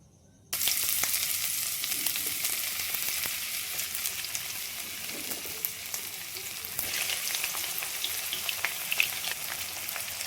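Ginger, garlic and chili hit hot oil and burst into a loud, steady sizzle that continues without a break, with a slight surge near the end.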